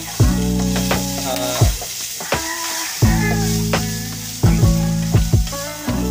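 Onion sautéing in a little oil in a pan, with a bright continuous sizzle broken by several ringing metallic strikes of a utensil against the pan at irregular intervals.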